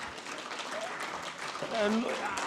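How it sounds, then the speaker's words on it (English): An audience at a book launch applauding, a dense patter of clapping spread through the room, with a voice speaking over it. "A huge round of applause."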